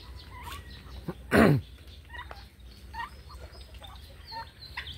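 Domestic turkeys kept on a small farm gobble, one loud gobble burst standing out, with fainter clucks and calls from the flock around it.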